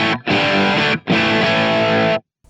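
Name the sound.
electric guitar rhythm distortion from Kemper Profiler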